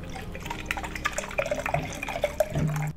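Alcohol is poured into a glass under background noise, making a soft, trickling splash that ends in a brief gurgling fill.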